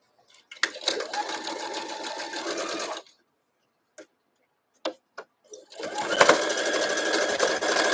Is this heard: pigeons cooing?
no